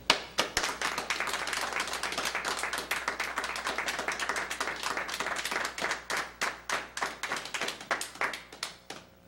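A studio audience on a healthy living TV show gives a round of applause for guests and viewers, a steady dense patter of many hands clapping that tapers into fewer, louder individual claps toward the end.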